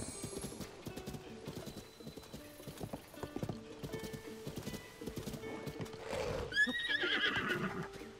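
Rhythmic clip-clop of horse hooves in The Legend of Zelda: Tears of the Kingdom, steady and close, ending with a loud whinny near the finish.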